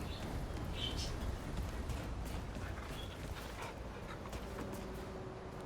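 A dog companion in the video game Remnant 2 whimpers and yips softly, faint short whines over a low background game ambience, with no talk.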